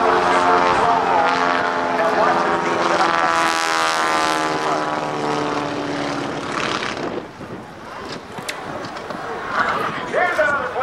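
A 3,000-pound, 220-horsepower aerobatic propeller plane flies a super slow roll at the 2008 NAS Oceana airshow. Its loud, throbbing engine drone fills the air while an announcer talks over it.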